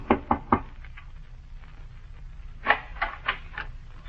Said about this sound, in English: at the door of one the woman knocked